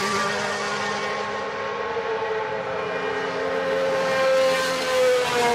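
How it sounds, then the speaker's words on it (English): A Porsche racing car passes on a race track with a loud, sustained engine whine whose pitch slides steadily down as it goes by, alone without voices. "So you can appreciate the sound of this incredible car."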